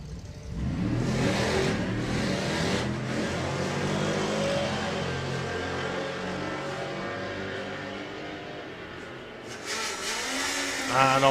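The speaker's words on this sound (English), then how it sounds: "So V8 muscle car versus motorbike engine tubular chassis kit car." V8 muscle car and a motorbike-engine tubular-chassis kit car on a drag strip, engines roaring steadily at high revs for the whole run, loud and sustained, with a voice commentating over them.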